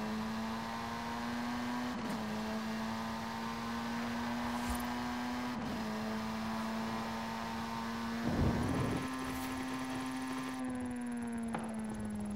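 A Volkswagen launches on a wet road in Forza Horizon, its engine holding a steady droning tone that climbs slightly, with brief splashy bursts and faint tire noise underneath.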